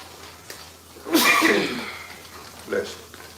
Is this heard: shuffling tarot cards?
no